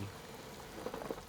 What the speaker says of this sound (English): Cook in boiling water to concentrate umami.